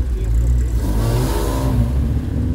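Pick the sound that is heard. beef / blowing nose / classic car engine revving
classic car engine revving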